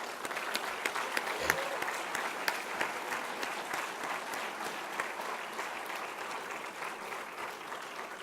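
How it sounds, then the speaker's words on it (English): A college audience at a fall convocation applauds newly appointed professors with steady, moderately loud clapping that runs throughout, with a few sharper individual claps standing out near the start. "So let's applaud them."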